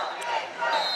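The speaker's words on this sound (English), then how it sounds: "2:54 to go, and the crowd yelling, "Go Big Green."" Crowd at a high school girls' state basketball game yelling and cheering, a loud sustained roar of many voices filling a gym.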